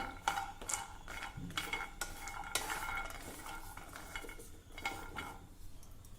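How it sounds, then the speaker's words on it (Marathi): A quarter cup of cashews roasts in a pan, with a spoon repeatedly scraping and clinking against the metal in a steady stirring rhythm, close and fairly soft, no talking. "आता यामध्ये पाव कप काजू घालणार आहे हे देखील आपल्याला थोडं भाजून घ्यायचं आहे"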